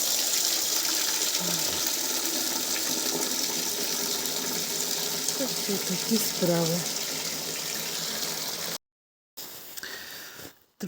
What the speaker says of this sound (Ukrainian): Наберемо водички. Ось у колонки у бабуськи і поставлю грітися.